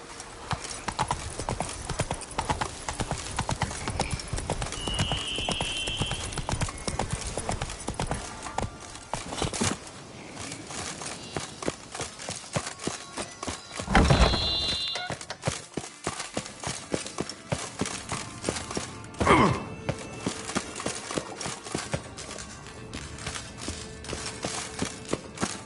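Horse hooves clip-clop steadily in The Witcher 3, with a brisk rhythmic beat running through the stretch. Game music and effects play underneath, and a couple of sharper thumps and a brief whinny cut in.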